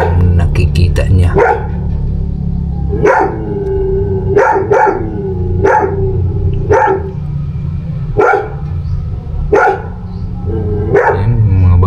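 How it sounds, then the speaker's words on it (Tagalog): A dog barks repeatedly, sharp loud barks spaced about a second apart, starting with a quick burst then settling into a steady rhythm. "Maingay na naman yung aso namin mga buddy."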